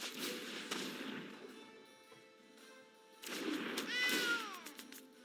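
In the card game MTG Arena, a cat card is played, producing two short bursts of a synthesized cat-like meow and chime, the second rising and sliding, separated by a quiet gap.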